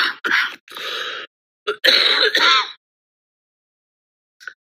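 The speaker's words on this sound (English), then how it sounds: "The weird thing about the cough, this kind of cough, is it comes out of nowhere." A close, harsh fit of coughing and throat clearing in several bursts, followed by silence and one last short, faint cough.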